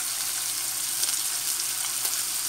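Cassava soup ingredients frying in a hot pan, a loud, close, steady hiss of sizzling oil with faint crackles and stirring, uninterrupted and without talking.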